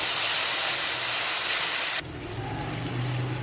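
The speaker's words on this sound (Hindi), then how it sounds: "अब जो मेरे पास टमाटर का मैंने पेस्ट बना के रखा था मैं वो डाल दूँगी" Tomato paste hits a pan of frying garlic with a loud, steady hiss that drops abruptly to a softer sizzle partway through, alone without talk.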